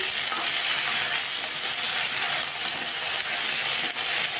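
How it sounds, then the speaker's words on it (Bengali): Constant bright hiss and crackle of ridge gourd frying in a pan, loud and close, with faint scraping of stirring and no voices. "ঝিঙেটা দিয়ে একটু ভেজে নেব।"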